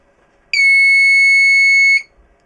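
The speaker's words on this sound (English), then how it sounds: "then it sets off an alarm" A Simploo composting toilet's liquid-detection alarm, fitted in a campervan, sounds one loud, steady high-pitched electronic tone lasting about a second and a half, close and alone.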